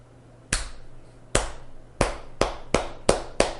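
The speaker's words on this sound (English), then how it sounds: "I'd say 20 people clapping" A slow clap from an audience of about 20 people: seven crisp, separate claps that start widely spaced and steadily quicken, with a faint hum between them.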